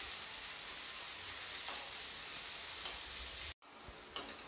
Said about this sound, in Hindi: अनियन डालने के बाद मैं इसे 10 सेकेंड तक फ्राई कर लूँगी।